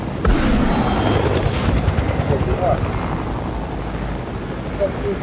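A helicopter's rotor drone thrums steadily in a video game, with brief bursts of gunfire-like pops at the start and low rumble throughout.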